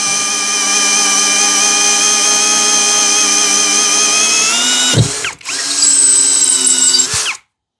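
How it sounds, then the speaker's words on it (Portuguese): A Hanabi impact drill with a 3/4 inch Speedboard spade bit bores at low speed, a loud steady whine for about five seconds, briefly dropping off, then spinning up again before stopping. "Agora medida um pouquinho maior, broca Speedboard 3/4."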